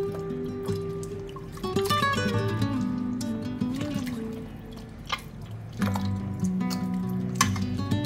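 Flour dough is kneaded and squeezed by hand in a bowl of cloudy water for a vegetarian Mayapur dish. The water squelches and drips in a wet, continuous sloshing close up, with no talking.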